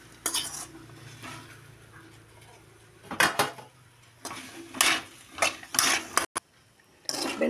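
A metal cooking pan being set aside while making okra curry, giving several sharp clanks and scrapes of metal on metal, loud and close, with quiet pauses between.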